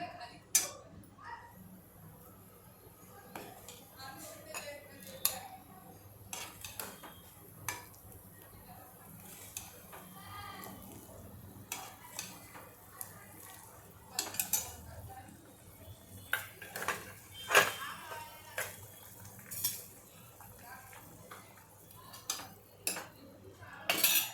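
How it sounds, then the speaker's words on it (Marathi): Green chilli dal is ladled from a pot into a bowl in a home kitchen, making scattered light clinks and taps of a metal ladle against the vessels over a quiet background. "आता ही आमटी जी आहे हे मी या बोलमध्ये काढून घेते"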